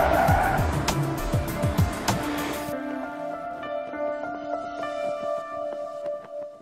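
A Mercedes-Benz van skids on a test-track skid pan, loud tyre squeal and engine roar for the first few seconds, then fading to a lower, steadier engine hum with a faint tonal whine.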